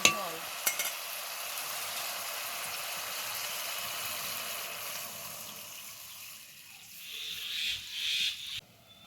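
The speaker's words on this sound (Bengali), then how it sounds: "এবার দিয়ে দেবো পরিমাণ মতো জল।" Water poured into fried spice masala for a vegetarian omelette curry, a soft hiss and bubbling that settles into quiet cooking, with a few stirring scrapes near the end.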